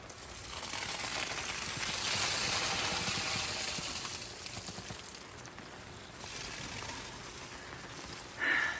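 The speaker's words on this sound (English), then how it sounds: "It's raining now. It's been raining all day." Rain falls steadily on a camping tent as a soft, even hiss, with a brief louder patter near the end and no voices.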